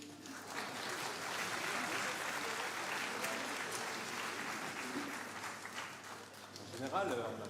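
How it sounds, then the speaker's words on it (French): Audience applause at a New Year concert, a dense, steady wash of clapping from a large crowd filling the hall, sustained throughout with a slight swell near the end. "Vous pouvez applaudir."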